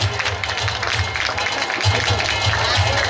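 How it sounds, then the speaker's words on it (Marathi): An audience at a junior college annual prize distribution ceremony claps loudly for a student, a dense, steady ovation heard close, with a voice speaking over the applause. "आपण जोरदार टाळ्या."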